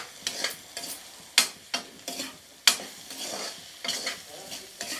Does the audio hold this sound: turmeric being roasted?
yes